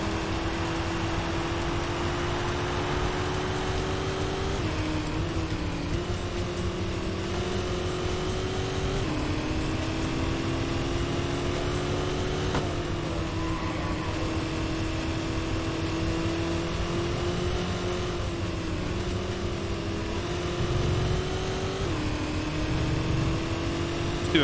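Race car engine in the Sports Car GT video game drones steadily through laps, its pitch rising and dipping with gear changes and throttle, loud and continuous throughout.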